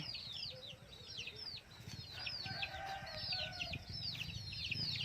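Backyard village chickens being fed near banana plants, with soft repeated clucks and a stream of high, rapid chirping overlapping, quiet and somewhat distant, no speech.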